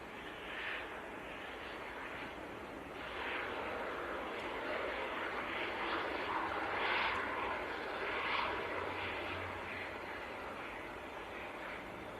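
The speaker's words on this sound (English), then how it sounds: "This is Aer Lingus from Dublin." An Aer Lingus airliner in from Dublin roars steadily at Manchester Airport in freezing weather, a broad continuous engine rumble holding across the whole stretch and swelling slightly in the middle.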